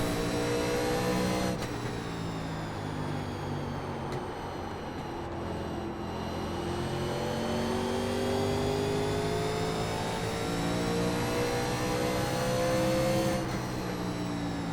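A 1987 NASCAR Legends stock car engine roars at Richmond in the iRacing video game, a loud continuous drone that rises and falls in pitch as the car works through the corners, with no talk.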